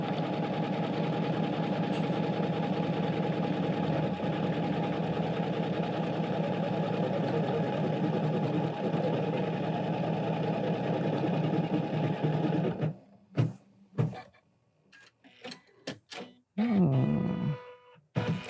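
A Janome Continental M17 embroidery machine stitches with a steady, loud mechanical hum for about thirteen seconds, then stops, followed by scattered clicks and handling noises.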